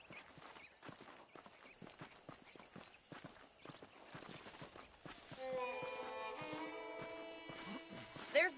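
Horse hooves clip-clopping at a steady walking rhythm in Red Dead Redemption, with the horses saddled and ready; game music swells in over the second half and a voice is faintly present.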